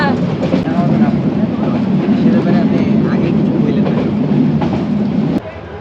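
The Chittagong Mail train at a railway station at night, a loud close rumble of rail cars with clattering, over crowd voices and talk, dropping off sharply near the end.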